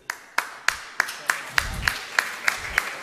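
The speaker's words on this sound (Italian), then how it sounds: "Anche un applauso di incoraggiamento e di benvenuto a Matteo." Hands clap at the Sakharov Prize 2022 award ceremony in Rome's Sala Capitolare, about ten sharp, evenly spaced claps in a steady slow rhythm, fairly close, with a faint low rumble underneath.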